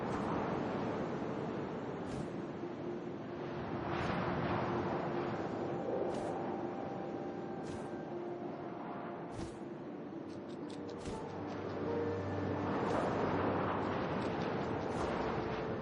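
Steady wind blows in the game What Remains of Edith Finch, a soft continuous whoosh that swells and eases, faint and alone with no voices.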